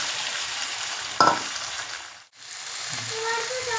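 Marinated meat hits a little hot oil with tomato, bay leaf and whole spices, giving a close, steady sizzle with a brief stirring clatter and a short dip in the frying sound.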